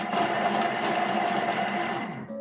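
A Thermomix food processor chopping onions whirs loudly and steadily for about two seconds, a dense high-pitched motor buzz with chopping noise, then winds down abruptly near the end.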